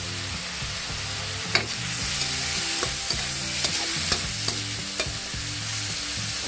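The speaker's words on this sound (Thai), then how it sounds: "นี่ผัดให้พอหมูสุกหลังจากนั้นก ็ใส่ถั่วลงไปนะครับ" Pork belly and long beans are stir-fried in a wok, a steady loud sizzle punctuated by regular sharp clanks and scrapes of the spatula against the metal, with no voices.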